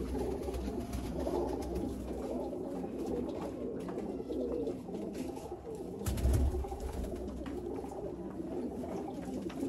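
A male quail of a Sialkoti–Kasuri cross breed calls with soft, repeated coo-like notes over a steady low background murmur, with no talk.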